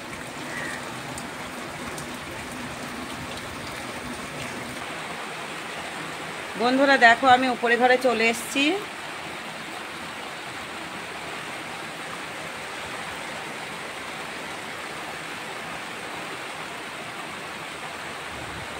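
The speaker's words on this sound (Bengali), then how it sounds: "এত জোরে বৃষ্টি হচ্ছে" Heavy rain pours outside a house at evening, a steady broadband hiss running through the whole stretch, with a brief spell of talking near the middle.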